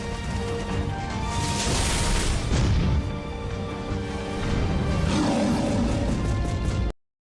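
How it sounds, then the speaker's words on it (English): A gorilla character in a video game lets out a deep, rumbling roar, loud and sustained for several seconds with a second surge midway, then cuts off abruptly. "that roar makes him sound more like a T-Rex or something"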